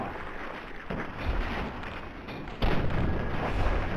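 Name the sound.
explosion in the video game Fallout 3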